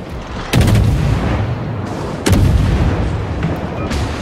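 Warship guns in World of Warships fire armor-piercing shells: two heavy booms a couple of seconds apart ring out over a dense, rumbling battle backdrop.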